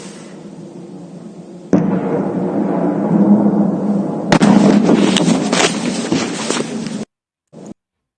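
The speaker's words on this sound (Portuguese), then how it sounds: "Aqui foi uma explosão em Kadivka, na região de Luhansk." A large explosion in Kadiivka, Luhansk region, heard as a sudden onset of heavy, sustained rumbling roar, then a sharp crack followed by crackling bursts before the sound cuts off abruptly.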